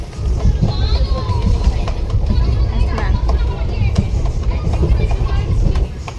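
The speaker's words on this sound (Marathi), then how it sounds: "तर ट्रेनमध्ये आम्ही बसलेलो आहे दिदी आणि वेदांत" Rumbling, rattling interior of a moving train, a continuous low drone with children's and adults' voices chattering nearby throughout.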